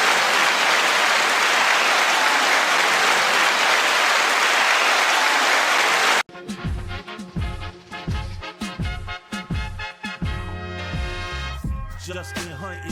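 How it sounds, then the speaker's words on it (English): Dense applause from a crowd roars steadily for about six seconds, then cuts off sharply into loud music with heavy rhythmic beats. "So 9-second applause to everyone."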